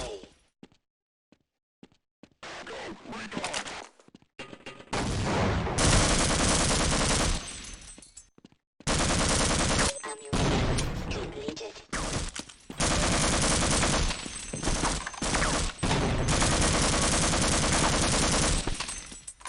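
Bursts of rapid automatic gunfire from a first-person shooter ring out loud and dense, broken by brief quiet gaps between long sustained volleys.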